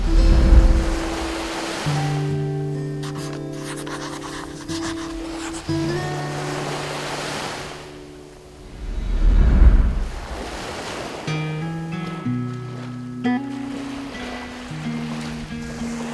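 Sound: sea waves and sea breeze on the Busan coast

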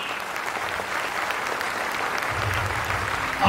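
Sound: audience applause at a school fest

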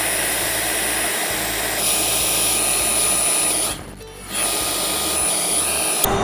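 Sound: CNC router spindle V-bit engraving a sign

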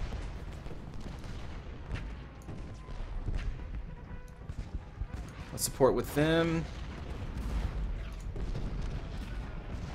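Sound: cannon artillery fire in video game Ultimate General: Gettysburg

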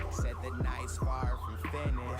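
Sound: police siren

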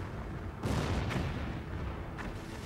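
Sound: heavy artillery fire sound effect

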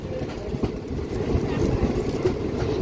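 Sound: Guntur-Rayagada Express passenger train running

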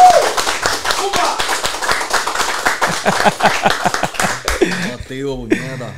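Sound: audience applause for an interview guest

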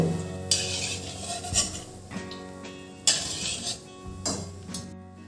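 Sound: taking fried coconut slices out of the pan

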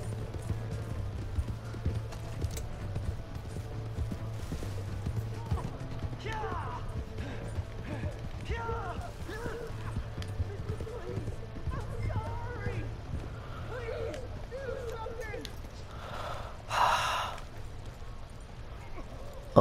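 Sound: horse galloping in video game Red Dead Redemption 2

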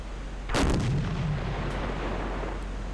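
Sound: submarine deck gun firing in Silent Hunter 4 video game

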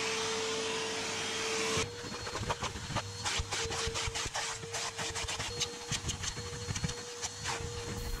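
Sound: vacuum cleaner vacuuming thick Rolls Royce carpets

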